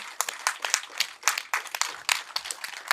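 An audience applauds in quick, scattered claps, faint and somewhat distant, with no steady rhythm, after a Telugu film screening event.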